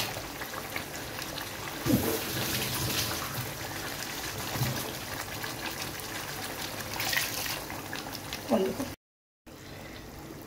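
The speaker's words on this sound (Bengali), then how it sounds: "আর একটু পানি দিয়ে দিব ঝোল করার জন্য" Water is poured into a pot of simmering beef curry to make gravy, a steady splashing, bubbling pour close by that runs for several seconds with a brief break near the end.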